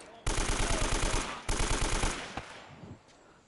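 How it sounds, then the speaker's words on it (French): Automatic gunfire in the video game Uncharted: Drake's Fortune, two loud sustained bursts of rapid rhythmic shots followed by fainter scattered impacts. "c'est qui me flingue là?"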